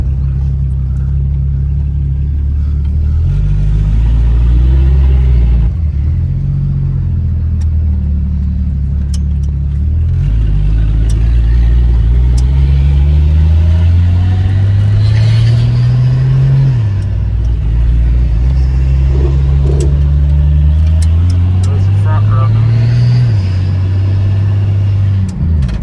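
Turbo Chevy Nova with a new exhaust and a 1-inch lowering block driven on the road, its engine droning loud and close inside the car as it repeatedly accelerates and shifts through gears.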